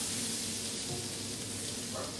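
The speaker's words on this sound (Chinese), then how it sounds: "爆香这个洋葱" Onion frying in hot oil in a wok for a stir-fry of winged beans with anchovies, a steady close sizzle and crackle without a break.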